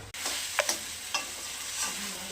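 Rohu fish head and cabbage sauté dry with ground spice paste and no water, a soft steady sizzle punctuated by a few quick spatula scrapes and knocks close by.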